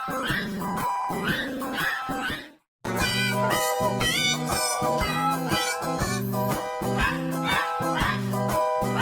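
Repeated dog barks and yips come through a loud, busy, effects-processed mix with steady rhythmic pulses, broken briefly by a moment of silence early on.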